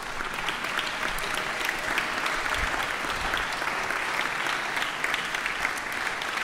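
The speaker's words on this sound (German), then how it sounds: "Es ist uns ein grosses Anliegen, unseren Sponsoren zu danken und bitten am Schluss um einen Applaus." Sustained applause from an audience at a music camp's closing concert, thanking sponsors, dense and even, filling the hall without pause.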